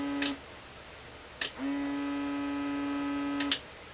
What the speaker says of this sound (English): the low pressure blower